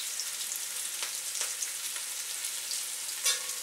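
Chicken stir-fried with ginger and chili in a pan, a close, bright sizzle with scraping stir strokes at intervals and a louder clatter near the end, no voices.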